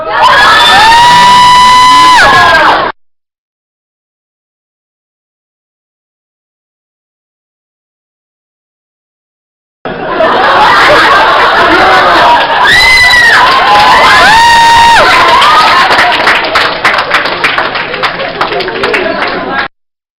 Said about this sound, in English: let's have the audience count you down and then cheer for you